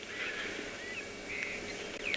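A bird calls on a sunrise safari in the Kalahari, drawn-out honking, musical notes rising over a low rumble of background noise, fairly faint.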